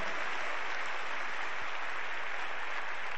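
Congregation in a Brazilian church applauding, a dense, steady burst of many hands clapping together, loud and continuous throughout with no voices on top.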